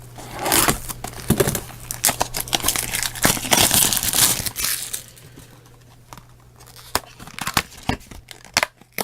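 Scissors cutting open Japanese Shining Legends Pokémon booster packs, with dense crinkling and snipping of foil wrappers up close for several seconds, then quieter scattered clicks and rustles.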